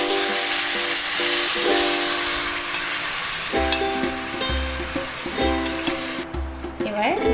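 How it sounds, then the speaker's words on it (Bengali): Marinated chicken for lemon chicken sizzles and fries in a hot pan, a steady broadband hiss throughout with low rumbling bursts as pieces hit the oil, close and loud, alongside background talk. "এবার যে ম্যারিনেট করে রাখা চিকেনটা আমি এবার দিয়ে দেব।"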